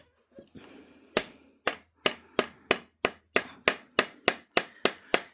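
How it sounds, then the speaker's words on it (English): About a dozen sharp metal hammer strikes ring out in a steady rhythm, close and loud, hammering a part onto a foosball rod, each blow followed by a brief ringing decay. "I'm gonna hammer this down"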